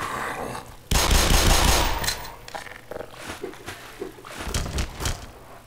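Gunfire at head suckers in Black Mesa: a burst of rapid shots starts abruptly, then several separate sharp blasts and thuds follow irregularly, loud and close.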